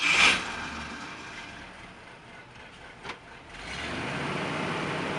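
A 1974 Jeep CJ5 with a V8 is started cold. After a quiet stretch, the engine catches and settles into a steady, loud, broad rumbling idle.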